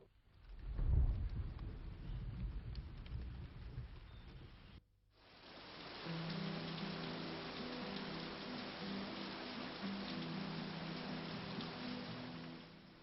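Steady rain falls heavily and evenly, with a low rumble early on and a brief near-silent gap midway before the downpour resumes, alone without voices.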